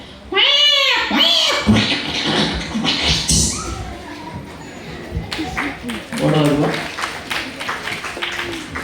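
A performer on stage imitates two fighting cats, giving loud yowling meows and snarls in quick bursts while an audience claps and laughs.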